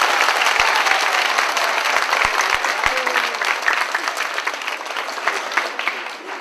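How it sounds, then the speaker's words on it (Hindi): An audience gives a loud round of applause for students at a hostel family gathering, dense clapping close by that slowly thins and fades, with no speech over it. "इसलिए और एक बार जोर से ताली बजाएं हमारे परिवार के लिए।"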